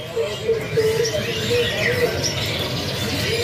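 A caged male canary chirps and twitters in short bright phrases over a steady background hum, the song moderately close and continuous for a few seconds while a voice murmurs faintly behind it.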